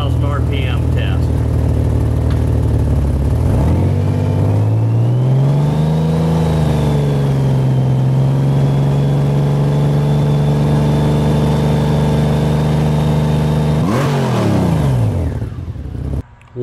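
Honda Goldwing GL1800 exhaust with half-inch plugs removed, held near 3000 RPM: a steady, loud close-up engine drone that rises from idle, holds its revs, then drops back at the end.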